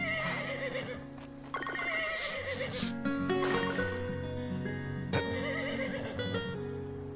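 Horse neighing in the Grand Bazaar farming game: a long whinny over looping background music, with a second whinny near the end, clear and fairly close with no talk.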